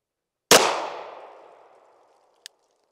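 A single Sig pistol shot fired single action, a sharp loud crack with a ringing decay lasting over a second, followed by a faint small click, with no talking.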